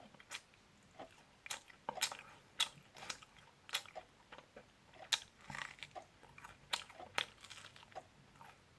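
Crunchy bites and wet chewing of Kyochon original fried chicken drumsticks, in close, irregular crackling bursts with short pauses between mouthfuls and no talking.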